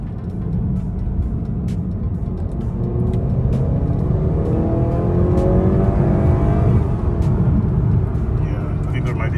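A 2018-or-later Honda Accord 2.0T with an intercooler upgrade pulls hard under acceleration, giving a steady low engine drone and rising road rumble heard from inside the car, with a voice speaking over it.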